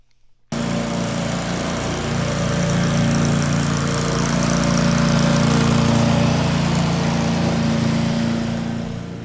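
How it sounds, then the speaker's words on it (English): A power lawnmower starts up after a brief quiet moment and runs steadily, its engine drone loud, close and constant with no voices. "a power lawnmower creates an average of 90 decibels of sound pressure"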